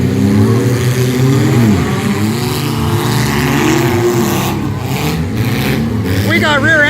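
A 2009 Dodge Caliber's engine revs loudly and continuously, rising and falling in pitch as it is pushed hard, while people talk over it.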